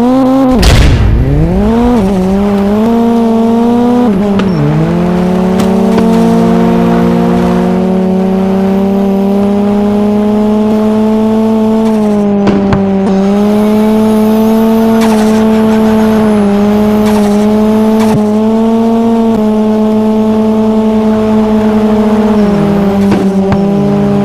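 Rally cars in the mobile racing game Rally Cross Track Racing roar loud and continuously, engine pitch climbing through gear changes with tire squeals and skids layered over the steady drone.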